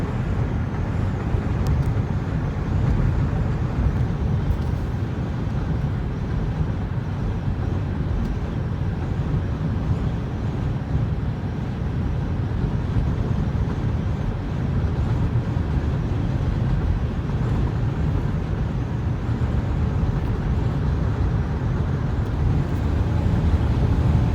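A 1998 Ford Windstar minivan cruises on the road at about 60 mph, a steady, loud, low rumble of engine, tyre and road noise from inside the cabin, with no talk.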